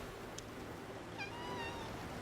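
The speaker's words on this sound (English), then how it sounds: "I keep hearing a cat meowing." A cat meows in the video game Infinity Nikki, giving a few faint, short rising calls over a steady background hiss with no speech.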